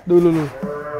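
A 15-month-old Limousin calf on a cattle farm at Singo Abang Farm, Merapi, lets out a single loud, close, drawn-out moo that drops in pitch, with a brief spoken word nearby.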